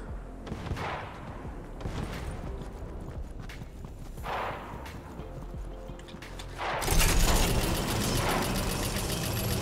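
Fortnite gunfire pops in bursts against a steady background rumble, then swells into louder continuous shooting near the end.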